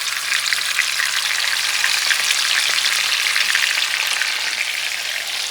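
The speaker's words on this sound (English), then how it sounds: "And you're just going to fry them." Big chunks of pork for Puerto Rican carne frita frying in hot oil, a loud, dense and continuous crackling sizzle that stays steady throughout, close up and with no talking.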